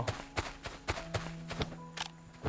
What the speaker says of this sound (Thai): แล้วก็มีเสียงเท้ามาอีกเลยครับ